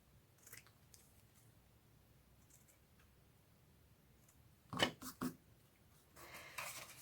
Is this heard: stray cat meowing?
no